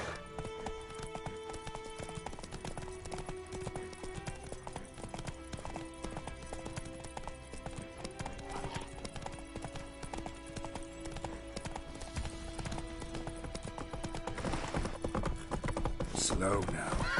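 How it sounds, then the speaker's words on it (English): In a video game, the horse Roach clip-clops along in a steady galloping rhythm, the hoofbeats continuous and fairly close against a busy game soundscape, with a voice faintly present. "Come on, Roach. Take it easy."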